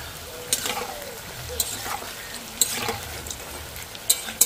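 Semolina snacks fry in hot oil with a continuous soft bubbling sizzle, punctuated by a few sharp clicks and light clatters of a utensil at irregular moments; no speech is heard.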